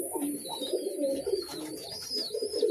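Crested pigeons coo and call indoors among other house pigeons, a steady layered murmur of soft cooing with occasional higher chirps, close and continuous throughout.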